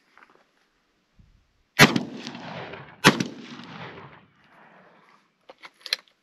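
A 20 gauge Citadel Boss SS coach gun fires its right barrel loaded with buckshot: two loud, sharp blasts about a second apart, each followed by a rolling outdoor echo, then a few faint clicks.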